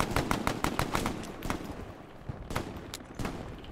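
Rapid bursts of rifle and machine-gun fire in a World War II shooter battle at Sainte-Mère-Église, fairly distant and quiet, sharp cracks in quick succession easing off then returning.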